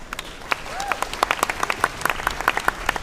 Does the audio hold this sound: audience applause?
yes